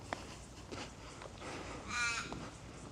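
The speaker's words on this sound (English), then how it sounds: "Crow." A single crow caws once, fairly faint, somewhere in a suburban street in Perth, against low traffic and outdoor rumble.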